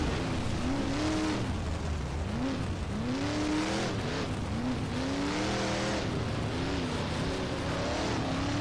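Dirt modified race car engine in rFactor 2 drones loudly and steadily, its pitch rising and falling in repeated swoops as the car accelerates and lifts through turns, with other cars nearby underneath.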